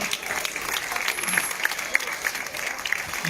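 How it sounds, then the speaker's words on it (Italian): Crowd applause for the mayor at a peace march gathering in Cinquefrondi, steady dense clapping from an outdoor audience, moderately loud with faint voices and cheers mixed in. "Un applauso al sindaco."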